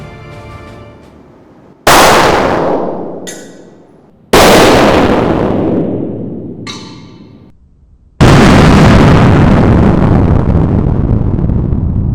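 Three loud gunshots ring out one after another, each a sharp blast followed by a long decaying echo, fired at a protective amulet being tested, with the last blast sustaining longest.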